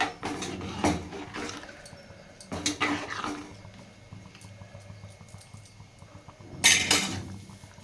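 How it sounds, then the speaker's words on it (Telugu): Clinking of a blender jar being rinsed and water poured out in a few separate splashy bursts, with quieter kitchen noise in between; no talking. "ఒక గ్లాస్ వాటరు జారు కడిగి వేసానండి మిగిలిన మసాలాతో"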